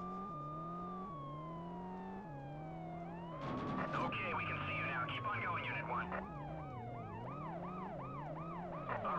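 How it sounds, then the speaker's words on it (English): An ambulance siren in the video game World's Scariest Police Chases wails loud and close, its tone sweeping up and down in rising and falling cycles over engine noise throughout. "thanks for that ambulance"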